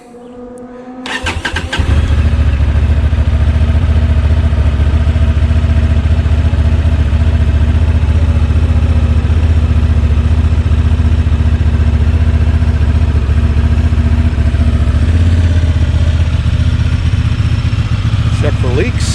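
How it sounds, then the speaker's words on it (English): A 2024 Honda Transalp motorcycle fires up after a short crank and settles into a steady, loud idle that runs on evenly at close range. "we are going to start the Honda Transalp here after all the oil's been put in it"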